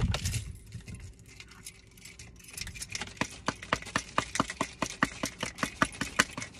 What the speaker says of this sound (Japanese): 鍵で開ける。